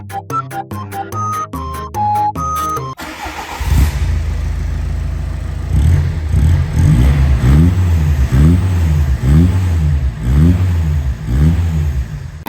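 A car engine turns over and revs repeatedly with a stainless valved exhaust line, rising and falling in rhythmic bursts, loud and close, after a few seconds of musical notes at the start.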